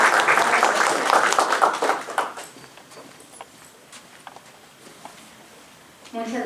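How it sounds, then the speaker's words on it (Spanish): Audience applause welcoming a doctor presenting on the use of milk containing antibiotics, loud and dense for about two seconds, then thinning to scattered claps before a voice begins speaking near the end. "Le damos un aplauso a la doctora y la más cordial bienvenida."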